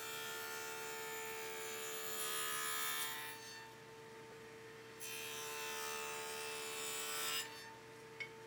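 Steady sanding on a wooden tray made from firewood in a workshop, a soft continuous rubbing with two louder passes, heard alone over a constant electrical hum.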